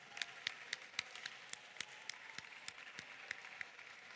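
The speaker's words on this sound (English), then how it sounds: "Let's give them a round of applause." A faint, distant round of applause from a small group at a competition event, with individual claps distinguishable in a loose, uneven rhythm.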